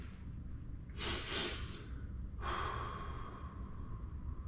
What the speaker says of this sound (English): I do a double inhale.